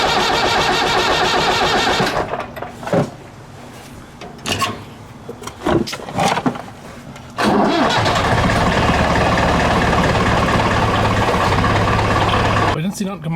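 Case 1290 tractor engine being cranked over and running, loud and close: a steady roar, then a stretch of quieter knocks and clatter, then a sustained engine drone that cuts out near the end.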